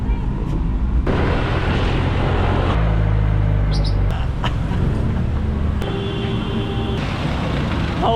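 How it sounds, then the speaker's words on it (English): Ride aboard a jeepney in the Philippines, a loud steady engine and road roar with rattling and clunks and occasional higher squeaks from the vehicle, close and continuous. "we're gonna take the local mode of transport here in the Philippines, and that is called the jeepney"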